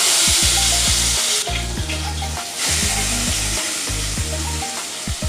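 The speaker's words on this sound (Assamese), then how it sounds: "আৰু গাইজ এয়া লেগ পিচ গ'ল আমাৰ তেলত।" Chicken leg pieces fry loudly in hot mustard oil in a wok, a dense steady sizzle with occasional crackles and spatters running the whole time, close up and with no talking.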